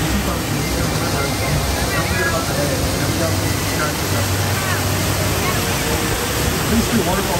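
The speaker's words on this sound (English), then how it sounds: "These two waterfalls keep floating down to the river." Steady, broadband rush of falling water fills the scene continuously, a loud, unbroken roar of two waterfalls pouring into a river.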